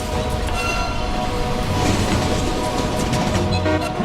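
A freight train rumbles and clatters past at a steady pace near Hinton, with a continuous low roar and metallic wheel noise, no talking.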